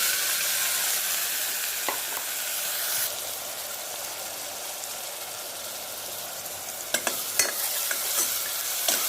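Chopped vegetables with asafoetida and curry leaves fry in a hot pan for an Indian shaak, giving a steady, close sizzle. A spoon stirs and scrapes the pan, and a few sharp clinks come near the end.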